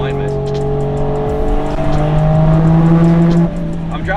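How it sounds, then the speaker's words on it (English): Toyota JZX110 Mark II fitted with a 1JZ engine, heard from inside while driving: a steady engine drone with rising tonal revs, road and tire noise throughout, and a slight drop in level near the end. "I'm driving my JZX110 Mark II right now with one JZ in it"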